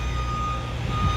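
A forklift backs up in a parking lot, giving a steady, repeating reverse beep over the low rumble of idling engines, close and clear the whole time.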